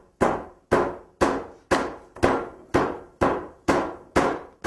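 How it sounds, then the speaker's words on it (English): The flat side of a tenderizing hammer pounds pork, giving nine evenly spaced, close, sharp thuds, each decaying quickly before the next. "take this tenderizing hammer on the flat side, and I'm going to just pound kind of outward"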